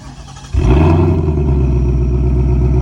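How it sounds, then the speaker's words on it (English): Ford Mustang GT with an X-pipe exhaust cold-starting: a quiet moment, then the engine catches with a sudden loud burst and settles into a deep, steady, rumbling high idle that continues close and loud to the end. "I'm gonna do a little cold start for y'all."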